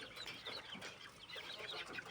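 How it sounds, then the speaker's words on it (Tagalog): Native chickens clucking close by, a busy stream of overlapping clucks and short calls from several birds on a farm, with no talk. "meron ding native na manok"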